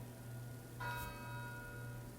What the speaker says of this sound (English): The bells ring every time it comes on.